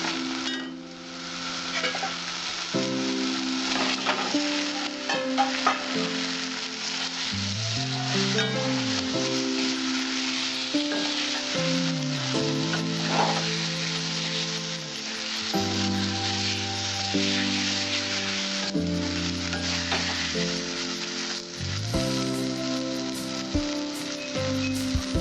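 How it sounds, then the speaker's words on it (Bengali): Eggs going into a masala sizzling in oil, a continuous, lively frying hiss with stirring scrapes, heard alongside tonal background music for the whole stretch. "এবার আমার মশলাটা থেকে আমার তেলটা ছেড়ে আসছে, এবার আমি ডিমটা দেবো।"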